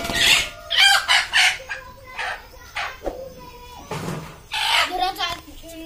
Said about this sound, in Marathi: ही खुडूक झालेली कोंबडी आहे